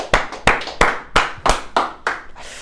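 A church congregation claps during a Spanish-language family worship service, with seven loud, sharp claps in a steady rhythm and no talking over them.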